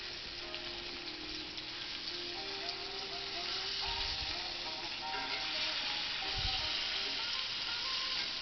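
Beef liver frying in a pan, a steady soft sizzle with a couple of low thumps as pieces are turned over, fairly close and continuous.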